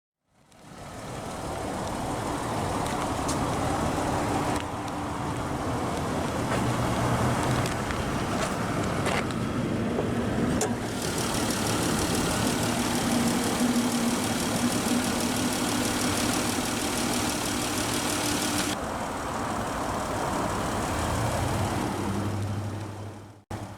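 A 2013 Chrysler 300 with a naturally aspirated 3.6-liter Pentastar DOHC 24-valve V6 idles steadily for the whole stretch, a continuous low engine hum with a faint whirring overtone and no talk.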